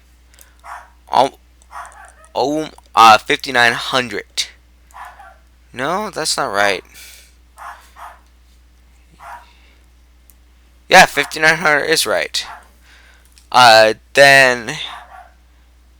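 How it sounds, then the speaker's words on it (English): A pet dog named Zimmy barks indoors in sharp, loud bursts clustered in several groups, with someone talking in between. "sorry guys, that's my dog."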